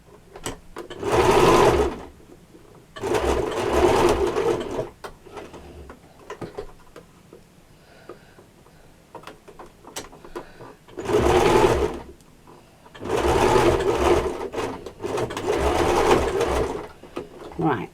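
A sewing machine stitches an apron in bursts, with four or five loud runs of rapid mechanical whirring separated by quieter pauses, close by.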